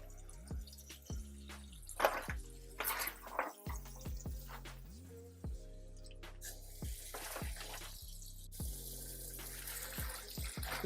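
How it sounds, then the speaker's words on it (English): Tap water runs into a kitchen sink holding collard greens, a continuous close rush with occasional splashes and swishing. "let that sink get filled up just to cover the greens"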